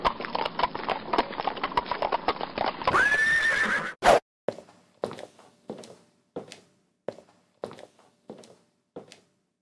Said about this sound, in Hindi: व्यापारी अपने घोड़े पर बंदरगाह पहुंचा।